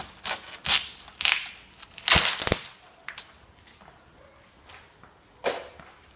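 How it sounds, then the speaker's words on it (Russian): A knife scrapes glued glass remnants off the tailgate door of a 2001 Nissan X-Trail, giving sharp, crunchy grinding bursts in irregular strokes, close and loud, with short pauses between them. "Теперь берем ножом и срезаем все вот это, которое у нас, остатки стекла приклеенные остались на двери."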